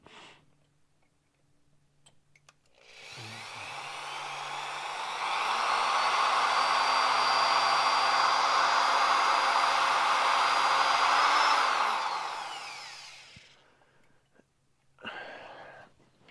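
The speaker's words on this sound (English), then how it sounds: "Let's get the drill on the other bolt." A power drill bores a pilot hole into a broken bolt during transmission leak repair on a 1959 Ford F100, a loud steady whine that ramps up, holds for several seconds with a slight pitch rise, then winds down.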